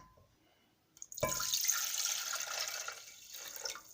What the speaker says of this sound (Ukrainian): Вию сюди той оцет.